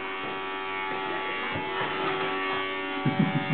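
A toy vacuum cleaner's small motor buzzes in a steady, even whir close by, with a few soft knocks near the end.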